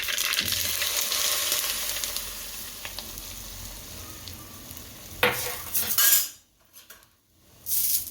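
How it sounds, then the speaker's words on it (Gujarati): Hot oil tempering with asafoetida and sesame seeds hisses and sizzles as it is stirred into batter, a metal spoon scraping and clinking in a pan, with a louder burst of sizzling before brief quiet gaps. "હવે આમાં વઘાર નાખી દઈશું"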